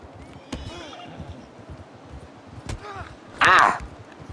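A horse in a video game neighs and whinnies near the end, with clip-clop hooves and a few sharp knocks earlier, while a person talks throughout.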